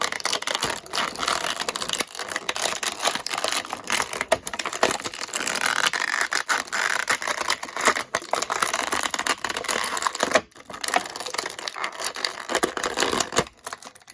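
A Star Wars Black Series Captain Rex action figure is worked free of its plastic packaging tray, giving a steady run of close crinkling, rubbing and crackling plastic with brief snaps, loud and continuous with no talk.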